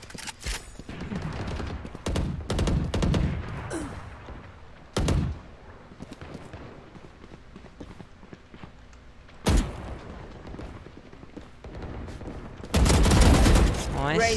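Valorant gunfire rings out in rapid bursts, sharp sprays of rifle shots separated by quieter gaps, with a player talking between the volleys.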